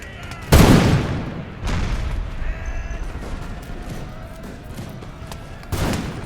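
Massed musket volley from line infantry in a Napoleonic-era strategy game battle: a sharp, loud crackling burst opens, followed by a further rolling volley and distant scattered shots, then another volley near the end.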